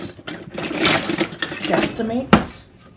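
Flour goes from a measuring cup into a bowl of oil in a home kitchen, with clattering cup and bowl knocks, scraping, and a sharp tap near the end, loud and close.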